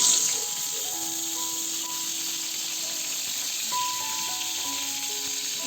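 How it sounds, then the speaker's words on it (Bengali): Slices of pointed gourd (potol) fry in hot oil in a kadai during Bengali Ranna Puja cooking, a steady, close, continuous sizzle with faint tonal sounds in the background. "এবার পটলগুলো ছেড়ে দিচ্ছি এক এক করে তেলের মধ্যে"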